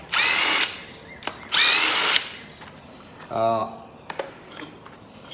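Two long, loud bursts of a power tool spinning off head bolts on a Ford 400 engine during a garage rebuild, each running about a second, followed by a short ratcheting whir and a few sharp metallic clicks.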